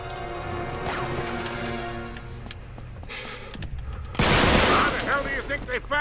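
AK rifle fire in Uncharted 3, a sharp loud crash of shots late in the scene, preceded by quieter game sounds with rapid crackling.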